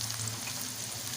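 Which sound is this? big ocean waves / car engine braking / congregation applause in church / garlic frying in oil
garlic frying in oil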